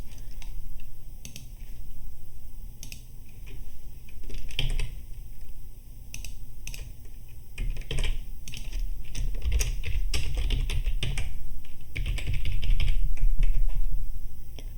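Steady clicking of a computer keyboard as access credentials are typed in, close and clear, with irregular bursts of keystrokes and short pauses, no talking.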